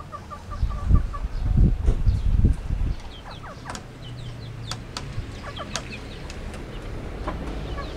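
Free-range chickens, including Kelso and Lemon Sweater roosters, cluck and squawk nearby on a farm. A burst of louder wing and scuffle noise comes first, then scattered clucks and calls over quieter ambience.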